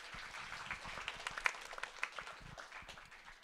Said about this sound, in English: let's get a round of applause for the mushroom